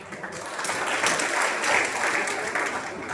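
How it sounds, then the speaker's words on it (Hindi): Crowd at a political rally in Mahendergarh claps continuously, a thick, even roar of many hands that swells slightly in the middle and carries on throughout. "बार बार हाथ ताली क्यों देते हो यार?"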